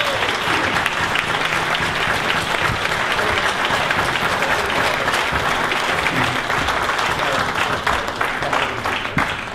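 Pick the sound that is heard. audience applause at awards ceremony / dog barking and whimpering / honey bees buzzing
audience applause at awards ceremony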